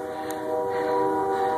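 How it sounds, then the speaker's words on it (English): A train rumbling along unseen during a heavy snowstorm, a steady droning hum with sustained tonal whine, moderately loud and continuous, with no talking. "You can hear the train, but you can't see it."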